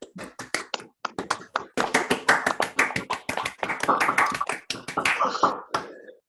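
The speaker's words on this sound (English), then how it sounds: "Would that work if we all unmuted our microphones and gave Shaun a round of applause?" Online meeting participants clap through unmuted microphones, a loose scatter of separate handclaps that starts sparse, thickens into a busier overlapping patter, then thins out near the end.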